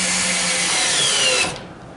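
Power drill driving a cheap 5.5-cent screw, a loud, steady whirring drone close by that runs for over a second and then cuts off abruptly as the screw seats.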